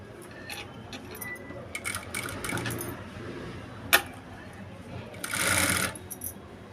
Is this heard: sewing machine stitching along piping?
yes